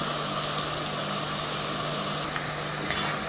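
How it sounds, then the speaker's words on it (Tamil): Onions sautéing in oil in a pan for a Tamil home-style kuzhambu, a steady, soft frying hiss throughout, close and even, with a faint brief clink near the end and no talking. "வெங்காயம் நல்லா வதங்கிக்கட்டும், அதுக்கப்புறமா நம்ம தக்காளியெல்லாம் சேர்த்துக்கலாம்."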